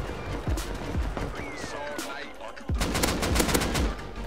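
Automated turret gunfire in the survival game Rust: a few spaced single shots at first, then a rapid rattling burst of fire. Game sounds and other noise are mixed in.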